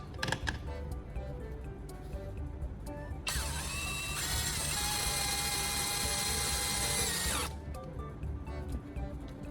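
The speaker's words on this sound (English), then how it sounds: "I'll use another drill to tighten the lid even further, ensuring no contents escape during the operation." A power drill runs steadily for about four seconds, tightening a plastic bottle lid, with a high whine and a grinding ratchet rattle, set between quieter mechanical clicks and handling noise.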